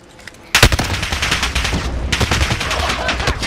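Marksman rifles fire in a video game shootout: a sudden loud crack opens a rapid, continuous volley of close shots that keeps rattling to the end.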